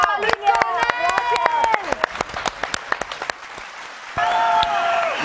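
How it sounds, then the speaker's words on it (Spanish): Studio audience applause with sharp scattered claps over loud overlapping shouts and cheering voices, ending in a burst of excited talk from a live television show. "¡Un aplauso!"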